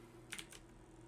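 A few quick keystrokes on a computer keyboard at a Linux workstation, a short burst of three clicks, faint and close over a steady electronic hum.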